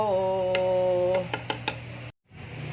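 Clinks of cutlery against a plate while serving sautéed corn with malunggay leaves, a few sharp metallic taps following a sustained ringing tone, close and fairly quiet.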